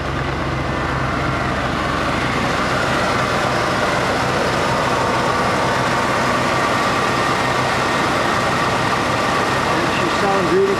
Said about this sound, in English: She sounds really good, the engine.